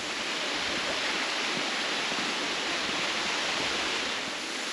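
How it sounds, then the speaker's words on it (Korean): A low, tiered waterfall spills down rocky steps in a mountain valley, making a steady, full rushing roar of water with no pauses. "층별로 이렇게 단계를 거쳐서 낮은 폭포가 흘러내리고 있습니다"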